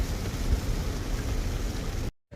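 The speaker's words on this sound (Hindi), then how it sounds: "यार अच्छा भला बारिश रुकी थी 2 मिनट के लिए, फिर शुरू हो गई तेज़।" Heavy rain falls steadily in a dense, loud hiss with a low rumble, then cuts off abruptly near the end.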